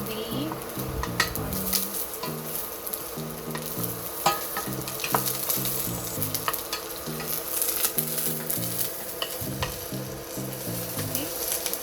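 Onion fries in a pan while being stirred, giving a continuous crackling sizzle with scattered utensil scrapes, close up. A steady melodic background tune plays underneath.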